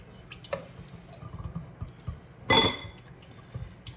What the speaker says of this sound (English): and just give it a good stir